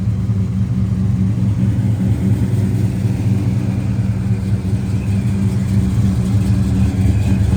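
A 1970 Dodge Coronet Super Bee with an aggressive cam rumbles steadily at idle, a deep, loud, lopey burble that holds with little change and no one speaking.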